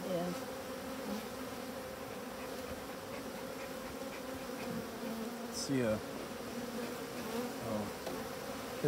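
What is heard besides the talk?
honeybees buzzing around an opened beehive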